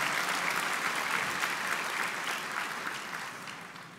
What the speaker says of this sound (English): Yeah, we can start the applause.